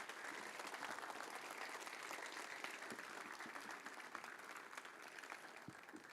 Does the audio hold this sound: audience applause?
yes